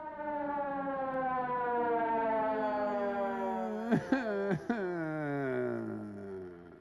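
A wailing siren from an old film, attributed to an ambulance, rises and falls continuously for several seconds, loud and close, with a few brief sharp interruptions near the end.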